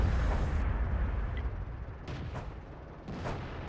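Heavy tank cannons booming in World of Tanks, a few deep blasts and rumbling impacts spaced over a low continuous battle rumble, moderately loud with no talk.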